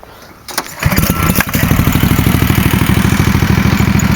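A ride-on lawn mower's engine cranks and catches after a brief quiet moment, then settles into a loud, steady, close-up running rumble with a regular pulsing beat, with no talking over it.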